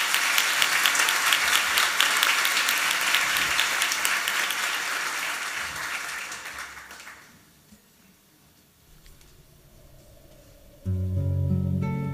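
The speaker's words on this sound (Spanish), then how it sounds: "La recibimos con un fuerte aplauso." Loud audience applause fills a school graduation ceremony hall for about seven seconds, then fades out into quiet room tone before music begins.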